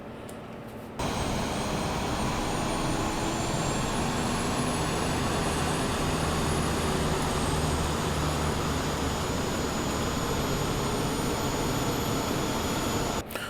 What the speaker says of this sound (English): Flap open and let's get the APU started.